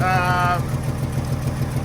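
A truck engine fitted with a Carter downdraft carburetor idles with a steady low rumble and faint pulsing; a brief tonal whine sits over it at the start, then the idle continues alone.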